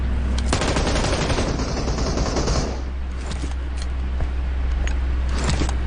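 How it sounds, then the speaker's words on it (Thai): Rapid bursts of video game gunfire crackle loudly over a constant low engine drone, followed by scattered single shots. "มีเสียงปืนอยู่รือท็อปเลย"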